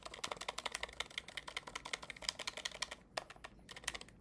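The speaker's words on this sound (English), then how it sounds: "I type this loud." Hard, fast typing on a Lily58 ergonomic split keyboard with silent Nocturnal 35gf switches, keys bottoming out on the PCB case in a dense, close run of muted clacks with a brief pause near the end.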